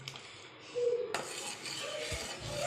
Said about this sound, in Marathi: तर दूध हलवत राहायचं नाहीतर शक्यतो लागेल